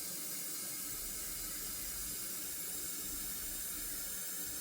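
Water running into a garden sink, a steady soft hiss of filling water, faint and continuous with no talk over it.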